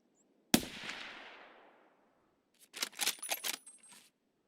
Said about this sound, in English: What is all this fucking shooting going on?